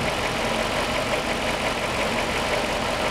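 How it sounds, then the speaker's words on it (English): Car engine idling roughly with a misfire from a failing ignition coil, a steady loud rumble with uneven knocking pulses, heard close and alone. "It's enough to get a little shake and misfire under load."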